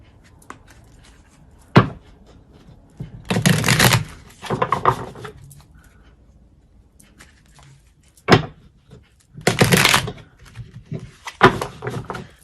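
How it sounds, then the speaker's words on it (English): A new, stiff deck of cards being shuffled in sticky bursts: several riffling rushes separated by sharp taps and quiet pauses, close and fairly loud, with no talking. "This is a new deck, so it's still a little bit stiff, so we're still breaking it in, so be patient with the sticky shuffle"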